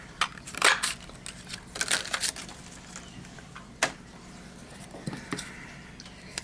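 A 1.5 inch circle paper punch cuts through paper in several crisp, crunchy snaps spaced irregularly, close and clear against a quiet background, with no talking.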